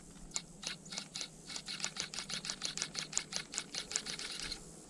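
A quiet Enduro24 RC crawler steering servo moves in a steady train of soft, close mechanical ticks and whirring clicks, about twenty evenly spaced pulses in five seconds.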